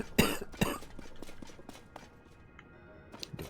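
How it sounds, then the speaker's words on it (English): Two sharp coughs come close together near the start, loud and close, followed by faint shuffling and small knocks, with no talk. "I do apologize for the coughing"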